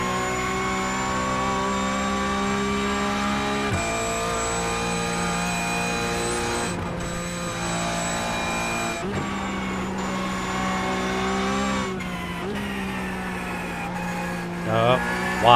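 A Porsche Cup race car accelerates around VIR on its first lap, its engine a loud, steady, close-up drone. Pitch rises and steps with gear changes and careful throttle, and the car is heard alone with no talk.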